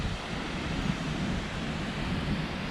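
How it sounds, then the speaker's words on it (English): Waterfall near Grisedale Tarn in the Lake District, a steady broadband rush of falling water that stays loud and unbroken throughout, with no voices. "Beautiful waterfall."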